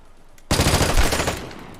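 A sudden, loud burst of rapid automatic gunfire from a gun in Vigor erupts after a quiet moment. The shots rattle densely for about a second before fading.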